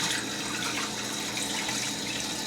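Running tap water pours steadily into a sink while hands are washed with soap, a continuous close, even rush with no talking.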